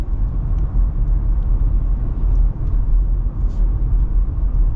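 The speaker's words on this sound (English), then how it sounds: "you've got normal Jeep noise and everything" A 2025 Jeep Gladiator rolls along with a steady, close, low rumble of road and drivetrain noise and no clear shifts or pauses.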